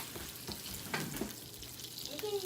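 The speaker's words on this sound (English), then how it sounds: "in that same pan, you're gonna saute the vegetables." Peppers and onions sauté in an oiled pan, hissing and crackling steadily with a few louder stirring scrapes partway through, close and continuous with no talk.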